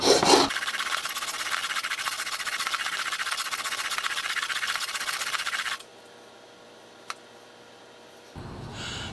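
A plane blade from a General No. 810 setup being sanded on sandpaper: a steady broadband rasping rub for about five seconds, then a quiet stretch with one tiny click, and the rubbing resumes at the end.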